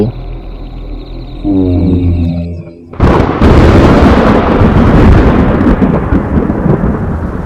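A tonal hum gives way abruptly to a huge, rumbling crash like a thunderclap that rolls on loudly for several seconds.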